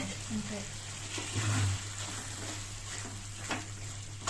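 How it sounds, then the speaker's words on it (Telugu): Gongura leaves stirred into chicken cooking in an oily pan, a low steady sizzle with occasional scraping stir strokes beneath a speaking voice. "ఉడికిన తర్వాత గోంగూర దాంట్లో వేసి బాగా మిక్సింగ్ చేసి బాగా ఉడకాలి"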